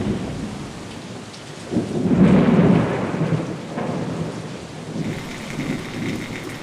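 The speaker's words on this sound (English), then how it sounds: "thunder and lightning drown out the relentless beating rain" A heavy thunderstorm in the Chernobyl exclusion zone: steady, dense rain beats on surfaces while a deep roll of thunder swells loud in the middle, then the downpour continues alone.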